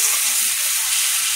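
Bay leaf, onions and garlic paste sizzle loudly in hot oil, a dense, continuous hiss of frying held close and steady throughout the short stretch.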